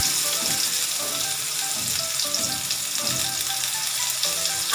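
Onion and garlic paste fries in a pan for a home-style pigeon meat curry, giving a dense, even sizzle with occasional stirring scrapes, close and loud, with no speech.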